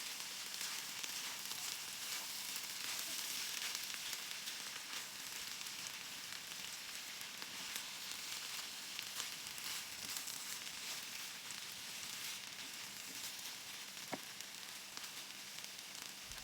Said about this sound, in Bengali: আমি আরেকটু লবণ মিশিয়ে নিয়ে ভালো করে নাড়াচাড়া করে এটা